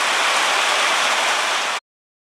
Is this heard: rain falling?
yes